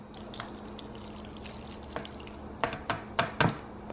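Cooked pasta tipped into a bowl of mixed seasonings, heard as a run of wet, sloppy plops and slides that grow louder and closer together toward the end over a faint background hum.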